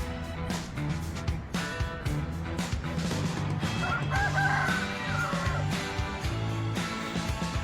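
A rooster crows nearby at dawn on Réunion, long strained calls over a busy background of other farmyard noise.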